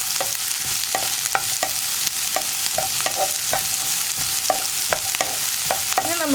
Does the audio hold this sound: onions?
yes